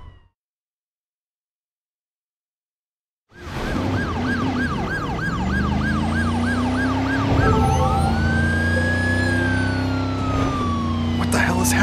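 Ambulance siren in the video game Driver: San Francisco, starting abruptly after silence with a fast wailing yelp that shifts into a slower rising wail, loud and close over engine rumble.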